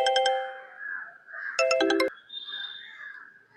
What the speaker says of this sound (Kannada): ಅಪ್ಪ ಫೋನ್ ಮಾಡ್ತಾ ಇದ್ದಾರಲ್ಲ.